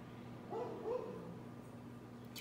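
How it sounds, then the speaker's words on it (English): A dog barks faintly in the background, two or three short muffled barks over quiet room tone. "You guys hear the dog barking?"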